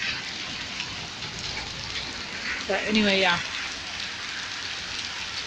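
Rain with fine hail falling in a backyard, a steady broadband hiss of drops and small pellets throughout, with a person briefly talking over it.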